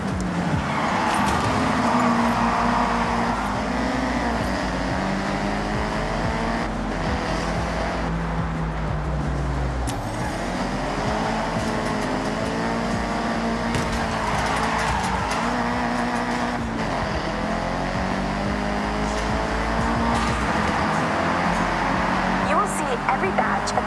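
A convoy of Nissan cars of all shapes and sizes rolls past in Forza Horizon, a continuous blend of engine drones and tire noise with occasional squeals, heard under steady background talk.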